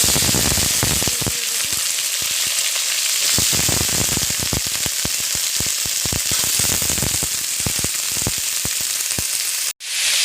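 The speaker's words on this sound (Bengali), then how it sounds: "নেড়ে চেড়ে নিচ্ছি একটু ভাজা ভাজা হয়ে যায় কারণ কাঁচা ঝালটা ভাজা হয়ে গেলে" Green chilies fry in oil in a pan, giving a loud, continuous sizzle with crackling pops as they are stirred, briefly cutting out near the end.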